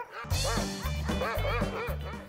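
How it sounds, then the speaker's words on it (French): Excited sled dogs bark loudly and repeatedly in a rapid, rhythmic string of close yips and woofs, several overlapping barks in quick succession. "Ils jappent quand moi je suis en train de les nourrir ou avant de courir parce qu'ils sont si excités."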